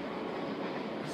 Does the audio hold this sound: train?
yes